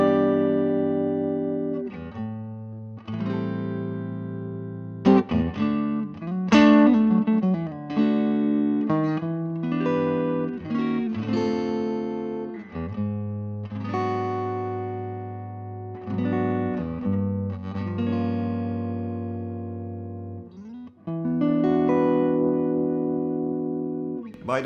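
Telecaster electric guitar on its neck pickup, played with strummed chords and picked notes in a continuous, full-bodied passage, loud and close with no voices.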